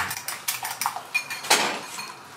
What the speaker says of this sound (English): Yeah, just whisk it.